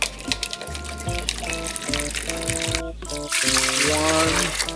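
Cold filtered water is poured into a bucket for mixing tile mortar, making a close, splashing and trickling flow that stops briefly and resumes, with musical tones running underneath.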